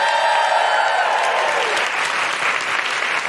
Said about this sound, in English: A huge round of applause for Jess Fostekew.